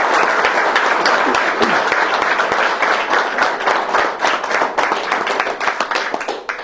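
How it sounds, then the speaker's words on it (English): An audience at a municipal council meeting breaks into sustained applause, dense overlapping claps filling the room steadily before thinning slightly toward the end, with no talking over it. "that deserves, I think, a round of applause."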